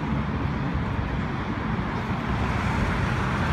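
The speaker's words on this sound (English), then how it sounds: "so traffic noise right here" Steady road traffic roar from cars and buses passing near a bridge on a long walk, a continuous broadband rumble with no breaks and no voices.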